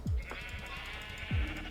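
Sheep in Minecraft give a soft, wavering bleat over a steady hum of background ambience, with low thumping footstep-like bumps at the start and near the end, and no one talking.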